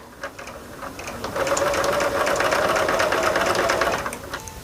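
Domestic sewing machine stitching quarter-inch seams on a Martha Washington Star quilt block, a steady close whir of rapid needle strokes that speeds up and holds for a few seconds before easing off.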